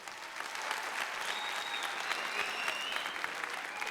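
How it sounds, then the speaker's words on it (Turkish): Studio audience on the Popstar TV talent show applauding steadily, a full, even roar of clapping with a faint whistle or cheer rising above it midway through. "Sizlerden iki alkış isteyeceğim."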